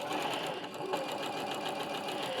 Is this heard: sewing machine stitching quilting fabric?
yes